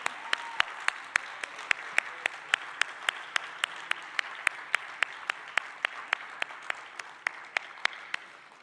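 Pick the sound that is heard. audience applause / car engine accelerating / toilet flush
audience applause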